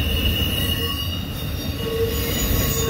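Freight train wheels squeal continuously against the rails under a loud, rumbling roar of rolling cars, with a high-pitched screech rising and falling, late at night.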